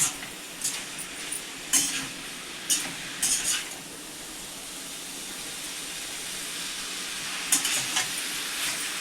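Noodles are stir-fried in a pan, with a steady loud sizzle broken by repeated utensil scrapes and clinks as they are tossed, close and without talk.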